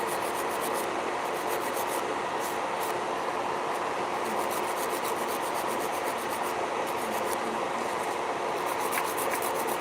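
A nail file rasps against gel nails in quick, steady back-and-forth strokes, a close, scratchy rubbing that repeats without pause and with no talking.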